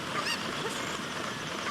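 Chickens in the video game Zelda: Ocarina of Time, their loud game-sound calls squawking and honking through a steady, busy mix with no talk over them.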